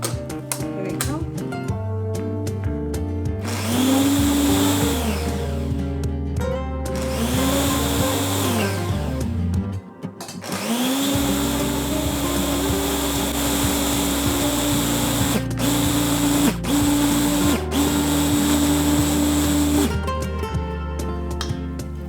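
A kitchen blender whirs through sofrito ingredients in loud, pulsing bursts, its motor whine rising and falling in pitch, stopping briefly around the middle before starting up again for a long steady run.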